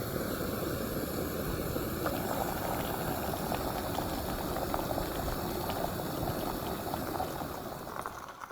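Water pours steadily into a camp meal pouch to rehydrate it, with a continuous hissing, bubbling rush that tapers off at the end.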